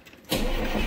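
A farm tractor's engine fires up abruptly, jumping from a quiet background to a loud, steady running rumble within a fraction of a second.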